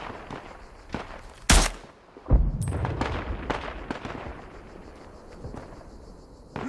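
Sharp gunshots crack out one after another in the video game Isonzo, with booming blasts and rumbling battle noise filling the gaps between them.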